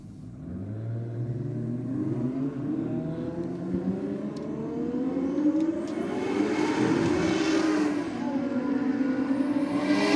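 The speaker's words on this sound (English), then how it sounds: "All of them coming out, getting ready to do their burnouts in the burnout pit" Drag race cars rev their engines loudly while lining up for burnouts in the burnout pit at a roll racing event, a dense, rising roar of several motors with no talking.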